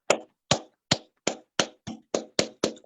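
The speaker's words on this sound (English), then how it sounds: "Can we all clap for the WHOPE volunteers?" Audience applause for the WHOPE volunteers at a humanitarian organization event, made of nine sharp, evenly spaced claps about every third of a second, close and fairly loud with no talk.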